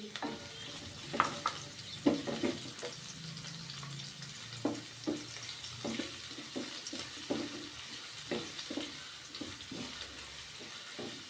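Onion frying in a pan for cashew-pea pulao: a steady low sizzle with repeated clinking stirs of a utensil against the pan, close and fairly quiet, no talking.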